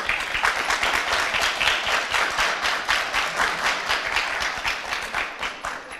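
Applause from a live audience at an international Roma youth gathering in Ohrid, Macedonia, a full room of hands clapping in a steady, dense rhythm that pulses slightly and holds throughout.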